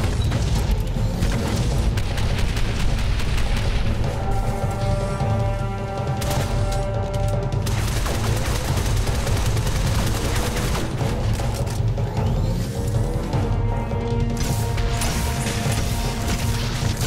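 Repeated grenade explosions and gunfire-like blasts fill a boss fight in the video game Shadow Complex, loud and dense throughout over steady game music.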